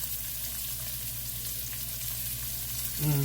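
Onions fry in a pan with a steady, even sizzle heard up close, and a brief tonal hum enters near the end.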